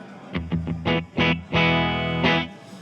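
An electric guitar plays straight into a Marshall Super Lead amp with the pedal bypassed. It gives a few short plucked notes, then longer sustained chords with a slightly gritty edge, close and fairly loud, with no talking.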